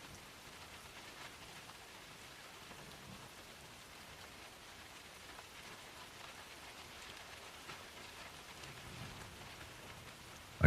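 Steady rain falls softly and evenly, a faint, continuous patter with no voices.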